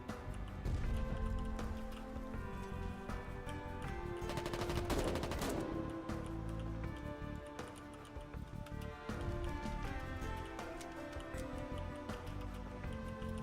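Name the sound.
shotgun gunfire in a video game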